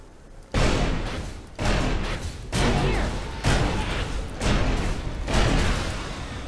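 Gunfire in the video game ELEX: six heavy, booming shots, each about a second apart, each with a short rumbling decay over a faint background.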